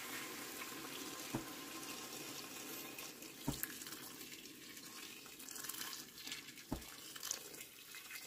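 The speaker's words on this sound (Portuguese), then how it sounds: "Agora eu vou colocar a água até cobrir." Water from a tap runs into a pot to cover pieces of beef heart in a home kitchen, a faint steady hiss with a few soft clunks and no speech.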